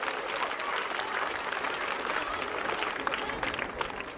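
Loud sustained applause from an audience at a gathering in Balochistan, dense even clapping throughout without a break.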